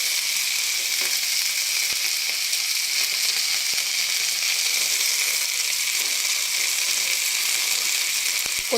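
Mint leaves and coriander stems fry in a hot pan for green chutney, a continuous close sizzle with a few faint ticks and clinks from stirring, no talking.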